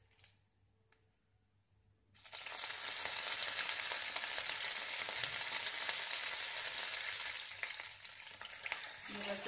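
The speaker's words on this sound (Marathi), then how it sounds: "तेल आपलं गरम झालेलं आहे, मोहरी, जिरं टाकून घेणार आहोत" Mustard seeds and cumin hitting hot oil in a pan, a quiet moment and faint ticks, then a sudden loud, dense sizzle with crackling that holds steady and eases slightly near the end.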